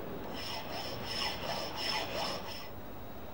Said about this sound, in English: This is a flat file, but its shorter teeth remove much less material on each stroke.